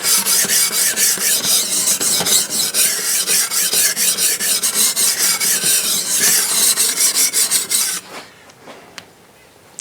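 Knife blade drawn repeatedly across a Ruixin Pro guided knife sharpener's stone, a loud, steady rasping of close, rhythmic strokes that stops abruptly near the end, leaving near silence.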